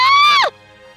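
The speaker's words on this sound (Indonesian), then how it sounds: "Membuatnya memekik kesakitan." A woman's high, strained shriek of pain rises loud and steady, then bends sharply downward and breaks off after about half a second, used as a sound effect in an audiobook, with a faint low hum remaining afterward.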